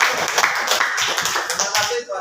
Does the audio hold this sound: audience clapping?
yes